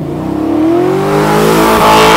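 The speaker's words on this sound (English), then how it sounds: "I'm gonna show you how to do a burnout" A car engine revs hard and climbs steadily in pitch during a burnout on a test track in Bowling Green, Kentucky. The loud, continuous roar is close and carries a faint tire squeal.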